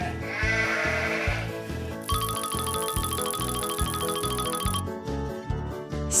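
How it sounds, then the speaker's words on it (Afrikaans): A sheep bleats repeatedly over a bouncy children's music backing with chiming tones, the wavering cries clear and close and no speech. "Skaap."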